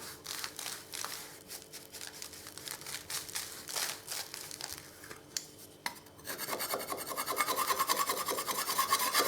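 Rough P80 sandpaper rasping back and forth across a painted wall being prepped over water stains, a steady run of close scratchy strokes that turns denser and more continuous near the end.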